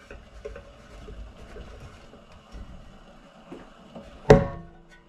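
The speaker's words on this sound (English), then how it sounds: "We'll just use the knock box." A used espresso puck knocked out of an Olympia Cremina SL lever machine's portafilter into a knock box, heard as one sharp, loud thud near the end after quiet handling clatter.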